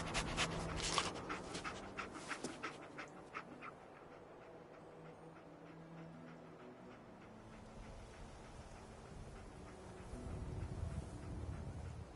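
The dog companion in Fallout 4 pants and sniffs steadily at close range, with soft game ambience and footsteps underneath and no talking.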